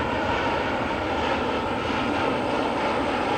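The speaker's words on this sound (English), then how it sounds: "United Flight 1717, it's a MAX 9 inbound from San Francisco." A United Boeing 737 MAX 9 airliner arriving from San Francisco, a steady broadband engine roar, loud and continuous with no talking.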